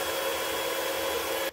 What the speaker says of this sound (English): this time I'm going to cheat by using the cool setting on a regular blow dryer to cool this off a little faster